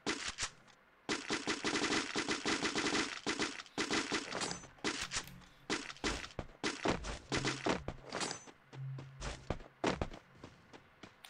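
Rapid bursts of automatic gunfire from the Free Fire battle royale game during a scrim match, loud and dense at first, then breaking into scattered single shots and short volleys with a few dull thuds.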